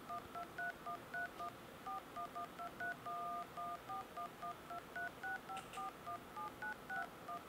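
A long run of keypad dialing tones, short beeps one after another in an uneven rhythm, clear and steady with no talking.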